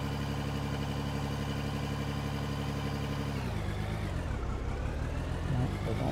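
A skid steer loader in Out of Ore runs with a steady diesel drone, its pitch dropping and shifting partway through as the machine moves, close and continuous with no talking.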